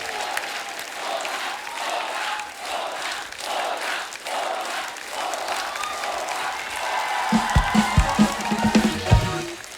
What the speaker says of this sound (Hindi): जोरदार तालियां हो जाए अजय साहब के लिए और तब्बू जी के लिए।